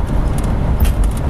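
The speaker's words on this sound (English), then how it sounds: "we just happen to be cruising down Keel Street right now" Steady low rumble of a 1955 Chevy Bel Air convertible driving along a street in Plymouth, Michigan, recorded from inside or close by, constant and fairly loud with no speech.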